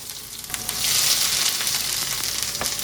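Onions sizzle steadily in a hot pan while smash burgers are made, a close, continuous hiss and crackle that swells slightly and holds with small pops throughout.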